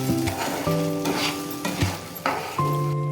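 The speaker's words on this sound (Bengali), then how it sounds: "পেঁয়াজগুলো হালকা লাল লাল ভাজা হয়ে আসলেই তার মধ্যে ওই পেস্টটা দিয়ে দেওয়া হলো।" Spice paste sizzles in a pan of reddish fried onions while being stirred, with soft frying hiss broken by several scraping, clinking strokes of a utensil against the pan, close by and without voices.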